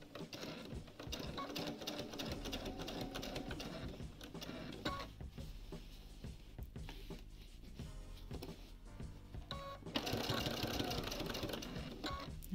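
A sewing machine stitches quilt binding in steady continuous runs, a close mechanical whir that pauses briefly and then picks up again louder, with no talking.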